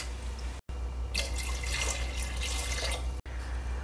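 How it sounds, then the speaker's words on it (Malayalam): Two cups of water poured into a pressure cooker with cut potatoes for curry, a brief splashing, trickling pour in the middle, quiet and close, framed by near silence before and after. "ഇനി ഇതിൽ 2 കപ്പ് വെള്ളം ചേർത്തെടുക്കാം"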